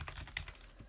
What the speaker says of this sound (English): now I can type my password